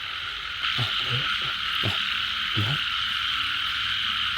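Frogs croak in short, deep, throaty bursts, four or five distinct calls close by, over a steady hiss of rain during a rainy-season night frog hunt in Thailand.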